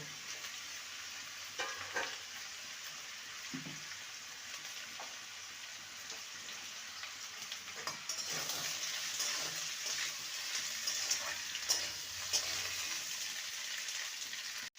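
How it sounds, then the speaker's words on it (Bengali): Ivy gourd (kundri) fries with sliced potatoes in a pan, a faint steady sizzle with occasional soft stirring scrapes that grow slightly busier and hissier toward the end. "এবারে কুঁদরিগুলোকে দিয়ে দেবো একসঙ্গে ভেজে নেব"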